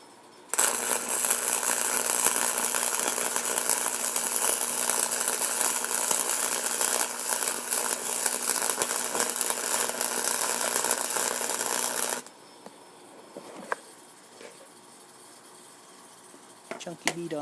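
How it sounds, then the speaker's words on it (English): A welder lays a continuous bead on a homemade short shifter, a loud, even crackling hiss that runs steadily for about twelve seconds, then stops, leaving quiet with a few small clicks and knocks. "we're going to just go ahead and weld it all the way"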